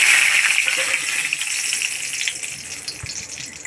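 Curry leaves crackle and sizzle in hot oil for a tempering, a loud bright hiss up close that fades slightly over a few seconds, with no talk.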